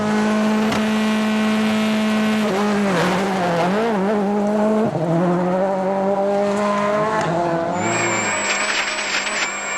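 A rally car at the 2002 WRC Swedish Rally runs hard, its engine loud and sustained with rising and falling revs and gear changes. A high squeal of tires or skidding cuts in near the end.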